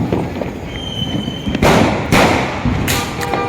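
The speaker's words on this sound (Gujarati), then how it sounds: "સોસાયટીમાં જો આજે બધા ફટાકડા ફોડી રહ્યા છે." Diwali firecrackers bursting in a residential housing society, with about three loud, sharp blasts that echo and fade between them. No voices are heard.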